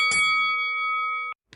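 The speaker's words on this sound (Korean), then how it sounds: "징 소리가 좀 달라졌네요" One gong stroke rings out on a talk radio show, a bright metallic strike that settles into a clear sustained shimmering tone for over a second and then cuts off abruptly, followed by a faint brief noise.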